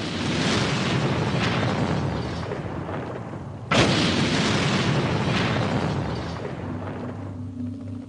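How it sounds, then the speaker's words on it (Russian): A truck packed with explosives, half the amount from the Oklahoma City bombing van, detonated as a test: loud sustained roaring rumble with a sharp blast surge near the middle, slowly fading at the end. "В качестве эксперимента взрывают грузовик, наполненный половиной того количества взрывчатки,"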